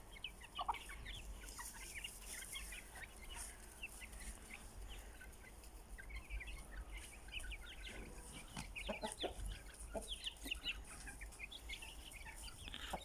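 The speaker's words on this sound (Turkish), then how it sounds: "Tavuklarımız hemen yayılıma geçtiler. Atlamaya başladılar." Several chickens cluck and chatter softly at close range, a busy scattered patter of short calls over a quiet background hum.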